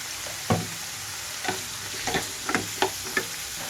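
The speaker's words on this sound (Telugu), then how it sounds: "నీళ్ళల్లో కట్ చేసుకున్నానండి వంకాయ ముక్కలు అవి కూడా ఇందులోకి వేస్తున్నాను" White brinjal pieces going into a pan with tomato for chutney, a soft steady sizzle with several scattered clinks and scrapes from the spoon, close and fairly quiet.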